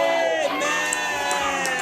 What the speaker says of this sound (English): people shout a big amen